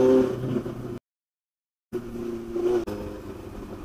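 Kawasaki Ninja 1000 with a loud aftermarket exhaust, idling with a deep, throbbing rumble that cuts out briefly to silence and then returns at the same steady level.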